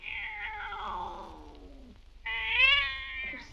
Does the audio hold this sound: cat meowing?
yes